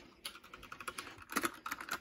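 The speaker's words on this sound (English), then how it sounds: "To be honest, I thought this keyboard sound good." Fingers type on a Magegee gaming keyboard in rapid, uneven clicking keystrokes, close and fairly crisp, with a denser flurry partway through and no talking.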